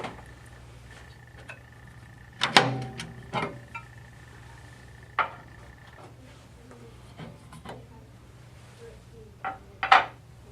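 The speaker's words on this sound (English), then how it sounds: "First you're going to remove the top stones and set them aside carefully." Heavy stones lifted off the top of a Progress hybrid wood stove, producing a few sharp clacks and scrapes of stone and metal, quiet and close with gaps between each knock.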